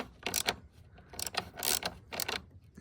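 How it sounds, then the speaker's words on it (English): A ratchet tightens a bolt on the fresh air intake cowl of a Lincoln Town Car. It gives several close, crisp bursts of rapid clicking, separated by short pauses. "so that's how to tighten the bolts"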